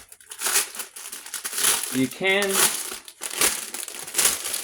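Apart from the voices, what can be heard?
plastic bag crinkling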